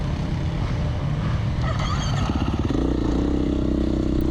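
Dirt bike engine during a motorcycle race at Chestnut Corner, restarting after a crash: a steady nearby buzzing drone that rises into a harsher rev as the rider pulls away, with no talk.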